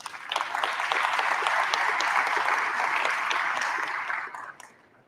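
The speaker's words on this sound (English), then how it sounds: "everybody who did so really deserves a huge hand of applause" A large audience at the South African election results announcement gives a sustained, dense burst of applause that holds steady at full strength, then fades out quickly near the end, with no speech over it.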